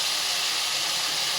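Potatoes dropped into hot oil with a fried spice mix for a fish and potato curry, giving a steady, bright sizzling hiss that stays loud and even throughout, with no talking.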